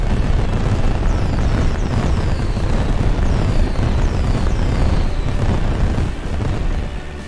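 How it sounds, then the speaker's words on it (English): Fireworks in a flight simulator game, a continuous loud rumbling roar of booms and crackling bursts with faint whistling streaks overhead, easing slightly at the very end. "Some fireworks for you."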